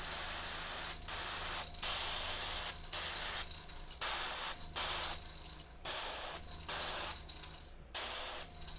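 A spray can or airbrush lays a base coat on a miniature, giving repeated hissing bursts of about half a second to a second, separated by short pauses. It sounds close but quiet, with a faint mechanical rattle under the hiss.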